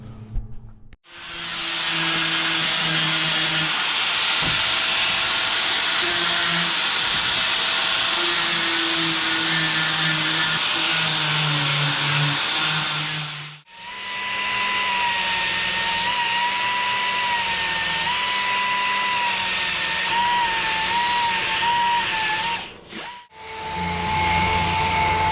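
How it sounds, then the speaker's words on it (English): An angle grinder works over spattery welds on an adventure bike frame, a loud continuous close whine with shifting pitch, broken by two short pauses. "I've got a bit of grinding to do now on my really bad spattery welding"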